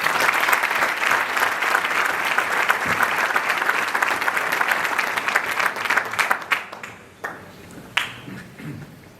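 Audience applauds steadily at a women's cycling event, a dense wash of clapping that holds strong for several seconds before thinning into a few scattered, fading claps near the end.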